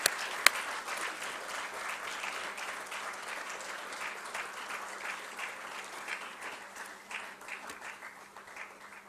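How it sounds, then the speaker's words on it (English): An audience at the Energy and Environment Foundation Global Excellence Awards 2017 ceremony applauds, with soft, dense clapping that keeps going for about nine seconds and slowly fades. "giving a huge round of applause as the background paper is"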